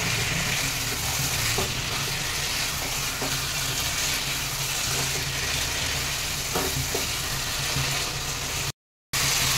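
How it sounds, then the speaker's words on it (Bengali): Chicken pieces and spice masala fry on a very high gas flame, a loud, constant sizzle with occasional stirring scrapes and clinks, cut by a brief silence near the end. "এবার মাংসের সাথে মশলাটা ভালোভাবে মিশিয়ে নেবো। এখন গ্যাসের ফ্লেমটা একদমই হাই রাখতে হবে।"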